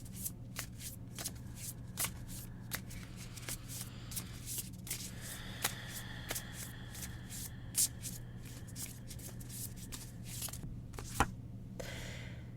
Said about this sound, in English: let's shuffle this deck and see what comes up.